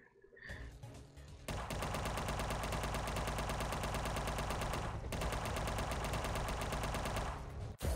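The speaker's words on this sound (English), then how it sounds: "Machine gun!" Sustained machine gun fire in the retro-style action game UnMetal, loud and continuous for several seconds with one brief break, then cutting off abruptly.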